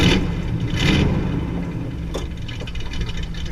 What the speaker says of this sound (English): Alright, so muffler delete's done. Let's see how this sounds.